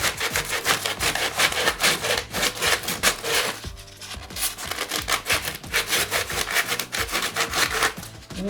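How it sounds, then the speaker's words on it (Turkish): Rapid, rhythmic scratchy strokes of sandpaper rubbing against a wooden table, close and continuous, with brief pauses between bursts. "Şöyle zımparalayalım."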